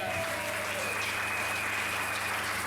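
A church congregation applauding during a sermon, dense continuous clapping filling the space from start to finish at an even, loud level.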